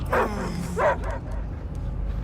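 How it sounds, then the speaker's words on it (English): Dogs bark in Marvel's Guardians of the Galaxy, with two short barks over a low rumbling game ambience and then a quieter tail, fairly close. "I hear only barking."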